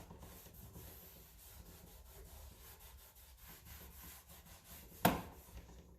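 A drywall sanding block rubs along the edges of an old wooden door, roughly a century old, in steady repeated strokes, quiet and close, ending with a sharp knock.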